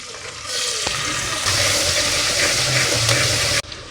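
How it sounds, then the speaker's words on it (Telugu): Green chilies and onions fry in a pan for poha upma, a steady broad hiss of oil running close and continuous with a few soft clatters of stirring throughout. "ఫస్ట్ అయితే పచ్చిమిర్చి అనేది ఫ్రై చేసుకుందాం"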